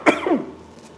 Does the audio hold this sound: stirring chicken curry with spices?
no